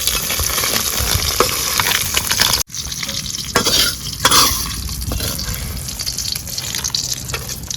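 Crabs fry and get stirred in a pan for a Bengali crab curry, with loud steady sizzling and scraping, a brief cut, then bursts of stirring and a watery gush over continuous frying.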